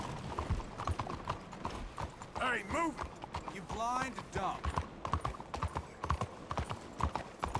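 Horse hooves clip-clop steadily on a street in Red Dead Redemption 2, a close, rhythmic trotting that carries through the whole clip beneath shouted voices and other game background noise.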